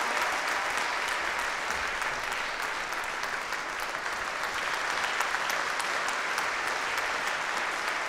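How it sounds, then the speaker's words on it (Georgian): An audience applauds warmly after a performance at a televised singing competition final, dense clapping that stays steady and full for the whole stretch. "მხურვალე აპლოდისმენტები"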